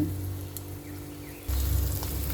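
Shallots fry in a pan over gentle heat, giving a soft, steady sizzle that swells louder partway through, with a low background hum.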